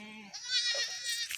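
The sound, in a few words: goat bleating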